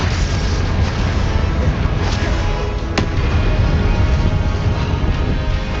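Continuous roaring fire-spell blasts from the Hogwarts Legacy video game, a dense broadband rumble with a sharp crack near the middle, loud and sustained throughout.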